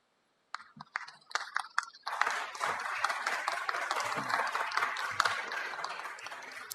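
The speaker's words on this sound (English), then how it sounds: "Can I ask that we keep the applause to a minimum?" Audience applause at a city Public Safety Committee meeting: a few sharp claps first, then a sustained, steady wash of clapping from the room, moderately loud and continuing to the end.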